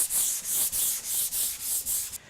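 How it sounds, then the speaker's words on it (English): Close, even back-and-forth rasping of 320 grit sandpaper over varnished wood, about seven quick strokes in a steady rhythm with no talking. "So I've just got this same 320 grit sandpaper, and I'm going to just sand the surface"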